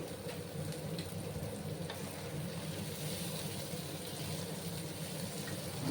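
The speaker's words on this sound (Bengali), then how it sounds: "একটু লাল লাল করে আমি পেঁয়াজগুলোকে প্রথমে ভেজে নেব।" Sliced onions with a little nigella seed fry in oil in a pan, a steady close crackling sizzle that holds evenly throughout with faint stirring underneath.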